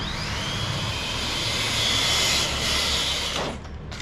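An electric RC car motor runs in high gear with a loud sustained whine that rises in pitch, then cuts off near the end as the car passes close.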